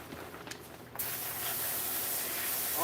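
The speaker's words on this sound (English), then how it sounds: "I'm gonna have to spray this one out real quick because it's got some mud in it." A spray of water washes mud out of a geode. It begins abruptly after a second of quiet handling and becomes a loud, steady, close hiss that builds slightly as it runs.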